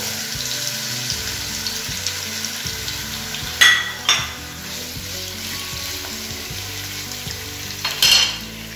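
Chicken pieces fry in a hot pan with a steady crackling sizzle, broken by a few louder scrapes or clatters near the start and toward the end; a faint melody plays underneath and no one speaks.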